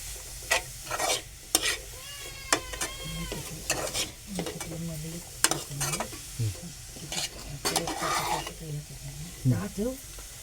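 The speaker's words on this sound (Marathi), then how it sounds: "गाजर मी आता ढवळून घेतोय" Grated carrots stirred in a pan for carrot halwa, repeated scraping strokes of a spoon against metal over a soft sizzle, close and rhythmic, with a voice talking intermittently over the stirring.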